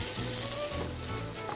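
Thin slices of food frying in duck confit fat give a steady, close sizzle that holds for the whole moment without a break.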